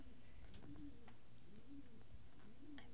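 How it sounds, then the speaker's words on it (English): Pigeons coo in soft, repeated low calls, several rounded phrases at a moderate distance, faint against a quiet background. "you can hear the pigeons that are going to be evicted"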